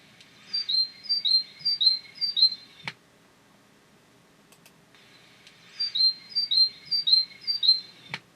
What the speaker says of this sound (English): That one is the great tit.